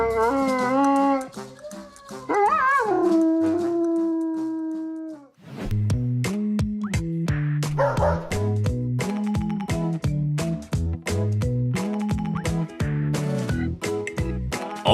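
A dog howls in long, wavering, sung-sounding notes, then broken yips and bursts follow alongside brighter clattering tones, loud and close throughout.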